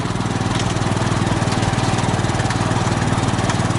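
A small Suzuki vehicle's engine on a road in Santander, Philippines, drones loud and close with a fast, even pulsing throb that holds steady throughout.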